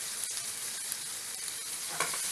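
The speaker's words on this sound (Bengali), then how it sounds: "টমেটোটা এবার ভাজবো।" Chopped tomato frying with onions in a pan for a green jackfruit pilaf, a steady close sizzle running throughout with a brief stir-like rustle near the end, no voices.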